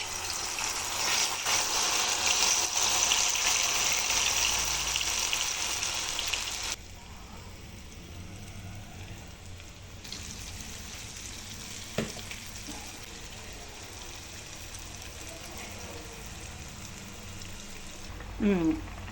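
Urad dal vadas (minapa vadalu) frying in hot oil, a loud steady sizzle for the first few seconds that then drops to a softer bubbling, with a few clinks of a utensil near the end.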